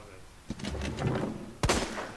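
Gunfire in the Resident Evil 2 video game: two sharp, sudden shots roughly a second apart, the second louder, over a low game background with a voice talking.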